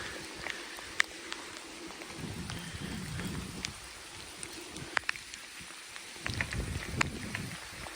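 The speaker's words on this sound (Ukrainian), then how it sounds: "І дощ пустився, змок повністю вже." Steady rain pours down on a street at night, a continuous broadband hiss with scattered sharper drops and a few louder gusts, heard alone without voices.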